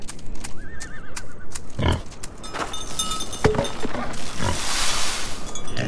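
Horse whinnies and neighs from the Farm Together farming game, a rising neigh near the start followed by snorts and other animal calls against a busy background.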